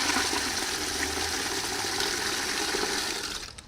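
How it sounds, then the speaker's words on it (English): Rainwater from a collection barrel pours in a steady rushing gush into a 5-gallon bucket, close and continuous before tapering off at the end. "I fill up a 5-gallon bucket."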